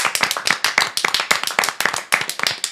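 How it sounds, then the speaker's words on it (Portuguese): A burst of hand clapping from a small group, steady and fairly loud, with claps overlapping into a brisk, continuous patter for a few seconds. "uma salva de palmas"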